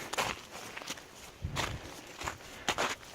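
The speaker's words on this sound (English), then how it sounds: "the sound of the ice between my shoes and the ground" Crunching footsteps on icy mountain ground while hiking, several steady steps at a walking pace, close by, with faint background noise.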